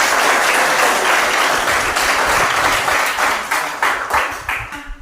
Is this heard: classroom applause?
yes